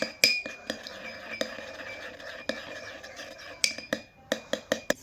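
A spoon stirs extracted juice with a spoonful of honey in a small vessel, making repeated sharp clinks and taps against the container, fairly close, with quiet scraping between strikes.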